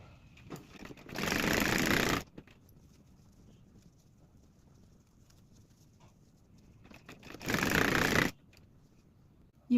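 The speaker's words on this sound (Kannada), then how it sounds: "ನೋಡಿ 1/2 ಇಂಚ್ಗೆ ನಾನು ಸ್ಟಿಚ್ ಮಾಡ್ಕೊತಾ ಇದ್ದೀನಿ." Two bursts of a sewing machine stitching cloth for a hair scrunchie, each a loud rapid whir lasting about a second, separated by quiet handling noises.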